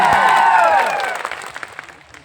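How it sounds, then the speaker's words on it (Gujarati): Rally crowd applauds loudly for Ratansinhbhai, sarpanch of Aatha Dungari, at a political public meeting; dense clapping and cheering start strong, then thin out into scattered claps. "રતનસિંહભાઈ માટે આપણે જોરદાર તાળીઓ પાડી"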